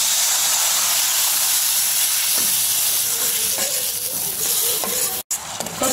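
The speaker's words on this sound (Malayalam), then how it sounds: "പുളിവെള്ളം ചേർത്ത് കൊടുക്കാം." Tamarind water poured onto ginger in a hot pan gives a loud, continuous hissing sizzle that settles slightly, with a few soft crackles and a brief cut near the end.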